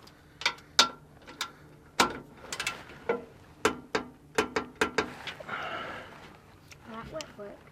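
A ratchet tightens skid plate bolts on a 2016–2022 Honda Pilot, giving bursts of sharp, close metallic clicks in uneven runs with short pauses between strokes. A voice is faintly present in the background.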